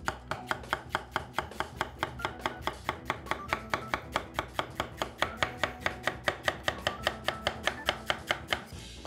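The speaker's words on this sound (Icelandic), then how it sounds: "Og ég ætla að byrja á því að skera niður smá selleri." A knife chops celery on a cutting board in a steady, even rhythm of crisp close knocks, about three to four per second and continuing throughout, with no voices.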